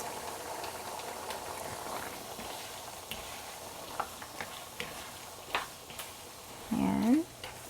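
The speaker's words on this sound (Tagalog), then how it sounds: "Napakulo na natin yung ating hotdog." Pork menudo sauce with hotdog bubbling at a boil in a cooking pot, a soft continuous simmering burble with occasional light knocks, while a person talks over it.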